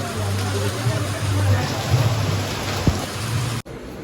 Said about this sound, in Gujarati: ફૂલ વરસાદો આજે તો